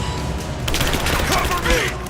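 Rapid gunfire in a Rise of the Tomb Raider firefight, a dense crackle of overlapping shots with background voices and effects, loud and continuous through the moment.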